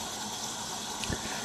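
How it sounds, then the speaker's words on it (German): Water is poured into a pot of already boiling mushroom vegetable broth for pasta with porcini sauce, a steady rushing splash under a continuous bubbling hiss, with a short louder gush near the end. "Jetzt gieße ich hier nochmal ein bisschen Wasser nach"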